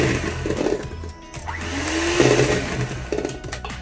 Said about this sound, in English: it's easier to use the hand mixer first because it's faster